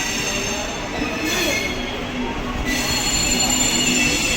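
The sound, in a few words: train in railway yard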